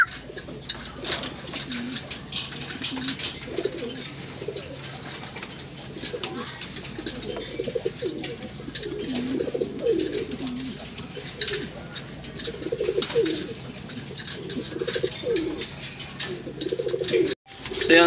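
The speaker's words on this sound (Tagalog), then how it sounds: "So yun mga kalapati" Racing pigeons in a loft coo repeatedly in low, throaty bursts nearby, with occasional chirps and rustling in the background.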